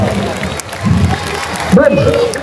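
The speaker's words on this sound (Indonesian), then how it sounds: "tepuk tangan dulu nih" A children's audience at a storytelling fundraiser claps and cheers, crowd noise rising and falling while voices and a child singing come through clearly over it.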